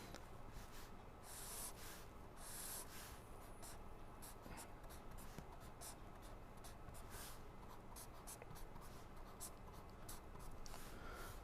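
A diagram drawn by hand during a lecture on unbalance detection, continuous faint scratching and scraping strokes of a pen or marker with brief pauses, quiet and close.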